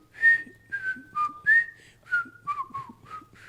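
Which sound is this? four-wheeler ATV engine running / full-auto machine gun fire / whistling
whistling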